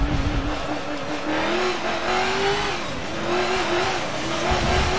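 A stock car in Forza Motorsport 7 that resembles a NASCAR racer revs hard with a steady, loud engine drone. The pitch rises and dips as it accelerates and shifts, with tire noise underneath.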